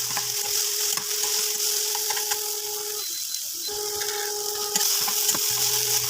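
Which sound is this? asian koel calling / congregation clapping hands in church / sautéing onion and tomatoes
sautéing onion and tomatoes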